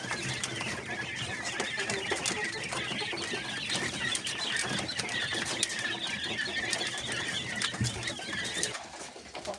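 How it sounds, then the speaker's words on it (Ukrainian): Lohmann Brown laying hens feeding in the evening, a dense flock of soft clucks and murmuring calls, continuous and near, with only faint clatter and no speech. "ось дай ці курочки. Всі їдять, зараз вечеряють"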